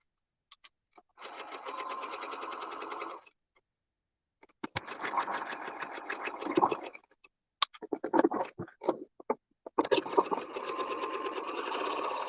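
A domestic sewing machine runs zigzag stitches over waistband elastic in several steady bursts separated by pauses, with brief handling and thread scratches in between.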